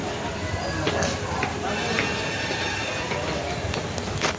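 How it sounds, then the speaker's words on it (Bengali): Busy ambience at Bapudham Motihari railway station, Bihar, with the rumble and rattle of a train, scattered clanks and a background hum of voices throughout. "এটা হচ্ছে বাপুধাম মতিহারি স্টেশন"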